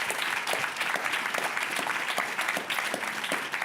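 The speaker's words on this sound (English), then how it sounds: "Round of applause, please, for these 3 excellent panelists" A conference audience gives the panelists a sustained round of applause, a dense patter of many hands clapping at once, fairly close and loud, with no speech over it.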